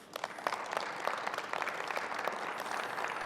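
Steady applause from an audience at a university Founders' Day ceremony, dense clapping throughout with no voices over it.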